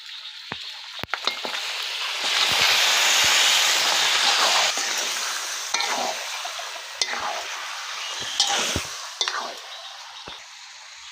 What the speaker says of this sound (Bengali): আড়াই কেজি সোনালী মুরগির মাংস নেওয়া হয়েছে, এটারই আজকে বিরিয়ানি করা হচ্ছে। এখন আমি কড়াইতে ছেড়ে দিচ্ছি।